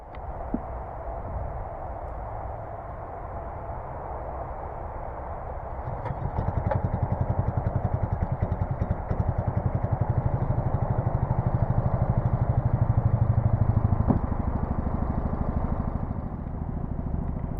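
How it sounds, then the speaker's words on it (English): A narrowboat engine on the Leeds and Liverpool Canal: a faint background is followed by the engine firing up about six seconds in, then running with a close, steady low rumble and rattle. "it was time to start Nessie's engine, and as usual, it fired up first time"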